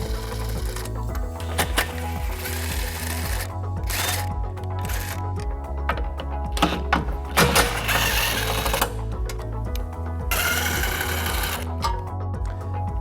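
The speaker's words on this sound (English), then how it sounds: "We're going to remove those using a 13mm socket." A 13mm socket driven by a power tool removes the bumper beam bolts on a 2016 Volkswagen Golf SportWagen, loud whirring bursts stopping and restarting several times, close up with no talk.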